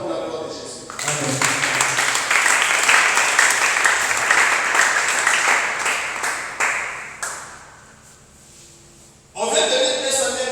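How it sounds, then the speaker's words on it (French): A church congregation claps and cheers loudly together at a service for about eight seconds. The applause fades out, then a burst of voices returns. "Acclamons pour la gloire de Jésus."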